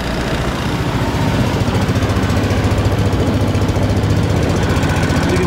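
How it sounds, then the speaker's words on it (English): A 2004 Honda Reflex scooter engine idles steadily up close at about 1500 RPM on a cold start at 14°F, a loud, even, rapid putter with a rough mechanical rumble that never changes pace. "She's idling happily at 1500 RPMs."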